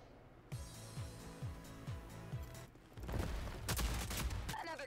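Gunfire in the shooter game Rogue Company: a regular run of evenly spaced low thumps, then a louder, denser burst of overlapping shots with a brief sharp whine at the end.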